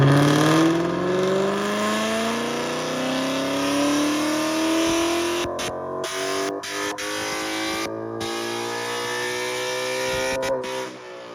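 A 2016 Ford Mustang 5.0 V8 on its second engine revs loudly, the pitch climbing steadily through a long pull before easing off with a few crackles near the end; close and alone.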